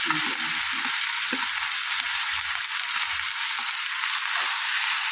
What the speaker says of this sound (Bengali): এই মশলার সাথেই আমি মাছগুলো দিয়ে দেবো, চিংড়ি মাছগুলো